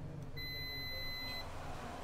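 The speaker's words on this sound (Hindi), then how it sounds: "शॉर्टिंग के लिए हम इसे बीप मोड में रखेंगे" A multimeter set to continuity mode gives one steady electronic beep lasting about a second while probing an Oppo F1s phone board for a short, heard close and clear over a low hum.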